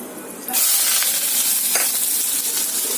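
Chopped onion hits hot oil in a home-kitchen pan, a sharp sizzle bursting in about half a second in and holding as a loud, steady hiss with faint spatula stirs.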